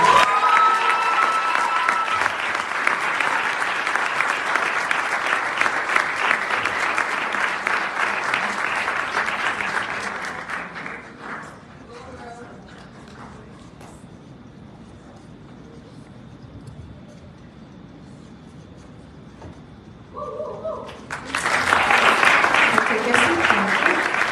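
A graduation ceremony audience applauds their 2023 salutatorian, a steady burst of clapping and light cheering for about ten seconds, then a quiet lull before loud applause surges again near the end.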